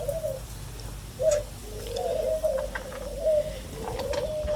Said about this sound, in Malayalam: നല്ല ഇനം പ്രാവുകൾ